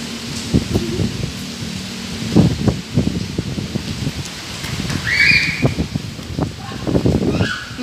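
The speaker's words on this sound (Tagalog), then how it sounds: "Ganyan yung hangin kalakas." Typhoon-force gusty wind in Hong Kong roars and buffets in uneven surges, with rustling leaves and scattered rattling bursts, loud and continuous throughout.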